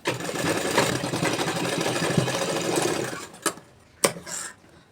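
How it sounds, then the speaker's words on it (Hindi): Close sewing machine stitching a shirt collar seam, running steadily in a fast continuous whir for about three seconds, then stopping, followed by a couple of short bumps and clicks. "ऐसा बराबर करके दोनों काट को मिलाकर हमें सिलाई लगा देना है"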